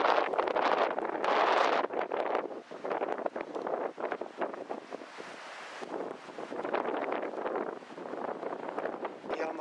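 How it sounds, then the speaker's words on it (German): Strong wind buffets the microphone in Kallikratis gorge on Crete, loud roaring gusts that rise and fall unevenly, with rustling and rumbling bursts throughout and no one speaking. "Es ist schon wieder sehr windig."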